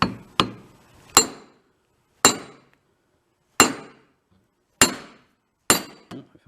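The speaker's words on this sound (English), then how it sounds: "we're going to give that a whack with a slightly bigger hammer" Seven sharp metallic hammer blows on a socket against a Piaggio MP3 front wheel bearing ring out one at a time at uneven intervals, loud and close, each with a brief clanging decay.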